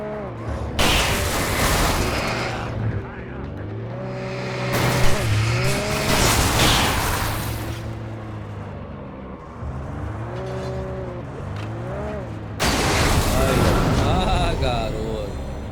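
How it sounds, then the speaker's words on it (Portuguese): A car driving and skidding in Alan Wake Remastered, with engine tones rising and falling and bursts of tire noise across the stretch, fairly loud and sustained, with someone speaking at points. "Vou passar por cima deles com o carro."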